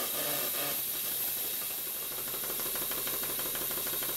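A steam engine's blower hisses steadily and fairly loudly, with a faint rhythmic mechanical ticking beneath the continuous rush of steam.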